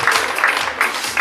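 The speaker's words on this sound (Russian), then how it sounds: "давайте мы ее проводим аплодисментами" Brief burst of audience applause at a bikini pageant, steady dense clapping pulsing for about a second with no talk over it.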